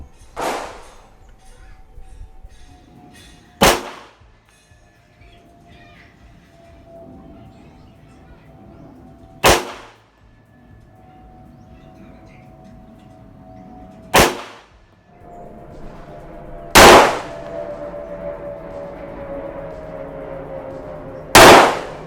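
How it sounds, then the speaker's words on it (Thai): A Colt 1911 .45 Gold Cup National Match pistol fires FMJ rounds at a shooting range, six loud, sharp single shots spaced several seconds apart, with quiet pauses between them. "เริ่มยิง"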